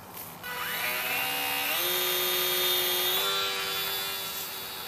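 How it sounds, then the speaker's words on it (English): A HobbyZone Champ RC plane's electric motor whines steadily as the plane flies. The pitch climbs, then settles at cruise, heard loud and continuous with no talking. "I'm cutting back to half throttle for just that nice level cruise."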